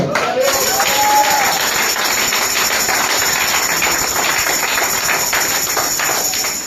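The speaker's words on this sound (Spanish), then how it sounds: "Denle un aplauso al Señor" A church congregation applauds together during a Spanish-language service, with dense, steady clapping from many hands filling the room for several seconds before fading slightly at the end.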